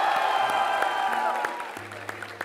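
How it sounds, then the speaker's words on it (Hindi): Fans clapping and cheering at an indoor cricket-team fan event, a broad crowd noise that tapers off, with scattered claps and a steady background hum. "अपने लिए तालियां बजाओ और फैंस की धड़कन के लिए उसके बाद शोर मचाओ"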